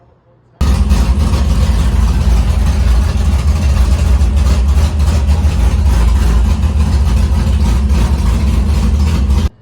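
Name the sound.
Chevrolet Vega drag car engine idling after startup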